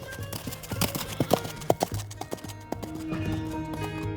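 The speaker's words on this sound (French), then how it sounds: "Le chevalier, lui, s'il en a l'occasion, il y va à cheval." A horse's hooves clip-clop on a trail up to Saint-Ulrich castle near Ribeauvillé, crisp close strikes in an uneven walking rhythm that thin out toward the end as a soft sustained tone rises.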